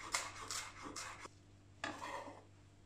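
A knife chops coriander stems on a board in a few quick, close strokes with soft scraping, a short burst, a pause, then another chop.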